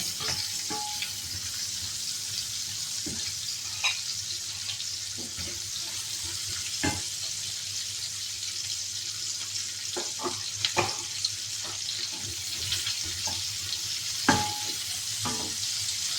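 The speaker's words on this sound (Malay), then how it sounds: "Mami nak masuk bawang yang telah Mami rincik tadi ke dalam minyak tadi" Chopped onions, cut to a medium size rather than finely, fry steadily in hot oil in a home kitchen while prawns are cooked mamak style. The sizzle hisses continuously and is broken by occasional clinks and stirring knocks.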